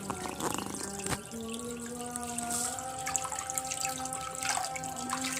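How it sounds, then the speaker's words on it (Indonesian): Water flows and trickles steadily into a freshwater lobster tank at a crayfish farm, a continuous close splashing under a faint tonal hum. "nah ini kan airnya ngalir gitu Pak"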